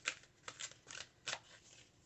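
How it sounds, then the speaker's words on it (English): A large tarot deck is shuffled in several quick, crisp riffling bursts, close and fairly quiet with short pauses between. "I'm going to shuffle good."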